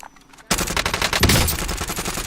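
Rapid automatic gunfire breaks out in Call of Duty: Warzone, a dense, loud, close burst of rapid shots firing continuously after a brief quiet start.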